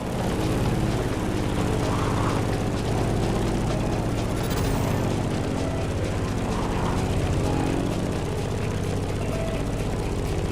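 A steady, heavy propeller roar from a Grumman F-8F Bearcat in flight within The Crew Motorfest, continuous and close with slight swells and a few brief clicks over the sustained engine tone.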